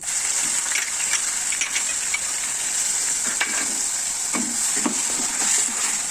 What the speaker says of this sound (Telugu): ఈ ఆనియన్ పేస్ట్ ఇందులో వేసుకోవాలి